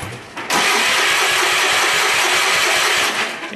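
A worn-out Kohler engine catches after a cold start and runs loud and rough with a slight throttle, a close, steady mid-pitched roar that begins abruptly and eases off near the end.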